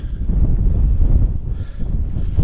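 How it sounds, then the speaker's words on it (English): Steady wind gusting across open, boggy moorland on the Cumbria Way, a continuous low buffeting rumble against the microphone with no talking. "wind's still kicking up. It's not strong, but it is still kicking up a bit"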